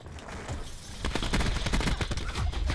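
Rapid bursts of gunfire in the shooter game Call of Duty Black Ops 4, with dense overlapping shots building loud and close after a quieter opening second.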